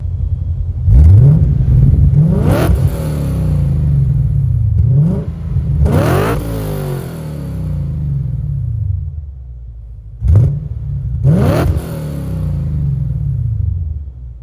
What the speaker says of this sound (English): play some clips of what the Z8 sounds like with the Super Sprint